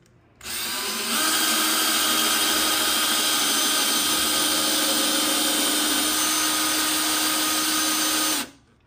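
A power drill drives 3-inch screws into a raised garden bed in one sustained loud whirring run that starts, pitches up and holds steady for several seconds, then stops abruptly, with no talk over it.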